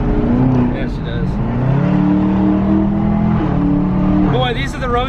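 A 5.0 Mustang running E85 and a 2019 ZL1 Camaro accelerate together on a highway, their engines droning loud and continuous with the pitch shifting up and down. Wind and road noise run beneath, and faint voices can be heard.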